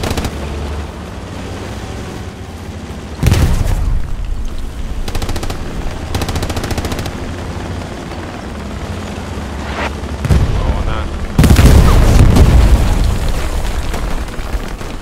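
Heavy booming blasts from the World War II shooter Hell Let Loose erupt over a din of distant battlefield gunfire, with one loud burst partway through and a larger, longer rumbling explosion near the end.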